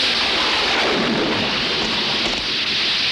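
Heavy rain pours down in a loud, dense hiss while thunder rumbles through it, a continuous close downpour with no voices.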